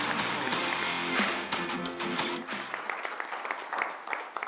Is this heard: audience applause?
yes